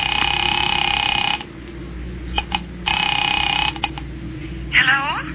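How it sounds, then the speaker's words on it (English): A vintage telephone on a spooky radio drama gives two long buzzing tone bursts separated by brief clicks, then a short rising warble at the end, loud and close. "Picking it up quietly, I dialed my daughter's number, Alec Bartlett's wife."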